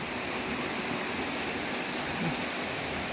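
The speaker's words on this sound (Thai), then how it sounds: "ฝนตกอยู่ข้างนอก" Steady, dense rain pours down, a continuous hiss of drops hitting surfaces with no pauses.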